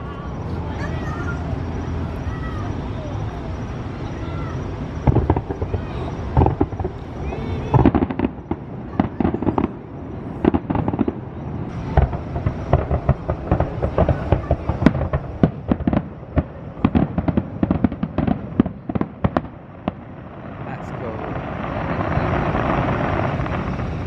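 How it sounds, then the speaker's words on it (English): Fireworks pop and crackle in rapid, uneven volleys over a low continuous rumble at Magic Kingdom, Walt Disney World, with voices and crowd noise mixed in. "That's like a Maleficent firework, that is."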